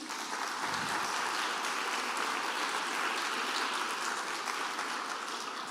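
A church congregation applauding during a Wednesday service, sustained dense clapping that holds an even level from start to finish without speech.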